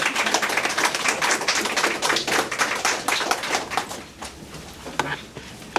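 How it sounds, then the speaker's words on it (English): Audience applause at an award ceremony at an ecology park, a moderate crowd clapping steadily for several seconds before thinning to a few scattered claps. "a round of applause"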